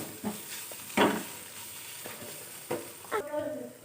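Ground cumin and pepper powder fry in hot oil over low heat, giving a soft steady sizzle broken by several sharp scraping stirs of a spoon in the pan, close and fairly quiet.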